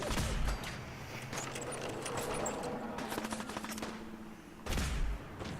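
Rifle fire in Fallout 4 cracks out in quick bursts and single shots, loud and close, with short gaps and a heavy boom near the end, free of speech.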